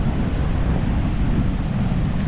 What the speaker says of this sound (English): And it's so windy!